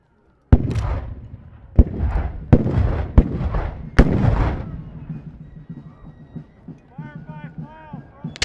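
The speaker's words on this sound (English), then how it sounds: "it was not unusual to have cannon duels like this, literally within visual sight of the enemy" Cannons fire in a Civil War battle in the Southwest, five heavy booming blasts in quick succession, loud and close, each followed by a rumbling decay before quieter sounds take over.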